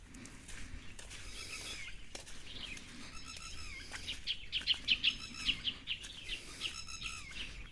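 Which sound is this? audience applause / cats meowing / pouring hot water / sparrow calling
sparrow calling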